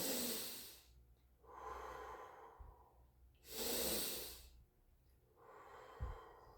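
Slow, deep breaths close up while stretching, with two long loud exhales alternating with softer inhales in a calm, steady rhythm.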